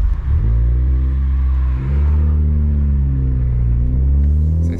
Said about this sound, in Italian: Eccola che parte. Senti la turbina.